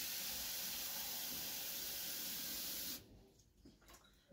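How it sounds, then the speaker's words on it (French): Cold water gushes steadily from a tap into a salad bowl for about three seconds, a dense close hiss, then stops abruptly leaving faint clinks and handling sounds. "Dans un saladier, il y en a pas. Ah si, il y en a un là. Je vais mettre de l'eau froide."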